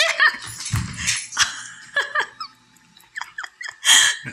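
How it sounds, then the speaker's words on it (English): Charles the dog whimpers and lets out a few short, high yips close by, scattered across several seconds amid breathing and soft laughter from people in the room. "There is our dog, Charles."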